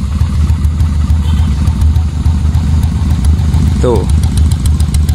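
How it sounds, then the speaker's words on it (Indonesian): A 2002 Honda Shadow 400cc motorcycle idles steadily nearby, its exhaust giving a continuous low throbbing rumble, with a brief spoken interjection partway through. "coba dirasakan suara knalpotnya."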